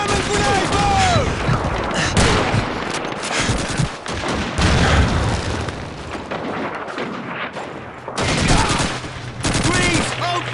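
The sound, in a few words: gunfire and explosions in Call of Duty 2 video game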